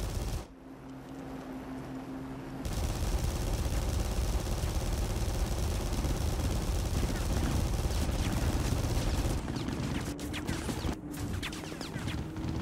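Sustained rapid machine gun fire in War Thunder's Tailspin mode from an early-war fighter plane, a dense continuous rattle lasting most of the stretch, with brief breaks near the end.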